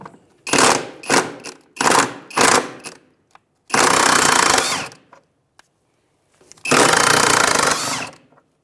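Power tool backing out 14mm upper shock bolts on a 2011-2017 Honda Odyssey, loud close bursts of ratcheting whir, first several short pulses, then two longer sustained runs separated by silence.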